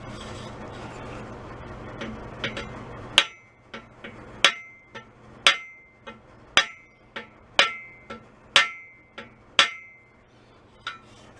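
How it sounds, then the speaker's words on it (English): A small ball peen hammer taps on a 1962/3 Ludwig Super Sensitive snare drum under restoration, giving about a dozen sharp, ringing metallic strikes at an uneven pace, loud and close after a quieter opening. "use a small ball peen hammered here. Use the ball on there."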